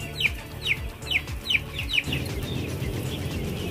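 Six-day-old broiler chicks in a closed poultry house cheep in a quick series of about five high, sharp peeps, then fade into a steady background hum of the house.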